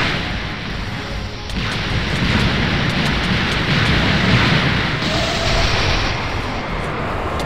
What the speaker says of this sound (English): I'm gonna use the barrage.